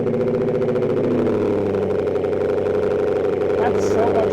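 A Ford Mustang S197 engine, fresh from new spark plugs and ignition coils, runs at a steady, even idle throughout, its low hum close and constant with no misfire stumbles.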